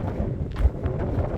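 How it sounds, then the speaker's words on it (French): Strong wind gusting across an open hillside, a low rumbling buffet against the microphone with uneven swells, steady and fairly loud throughout. "Alors là, on est plein vent"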